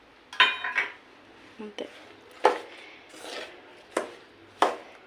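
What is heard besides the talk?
mixing ravva laddu powder with dry fruits in a bowl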